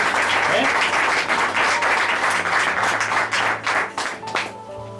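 A large church congregation applauds in a loud, full wash of clapping that gradually thins out toward the end.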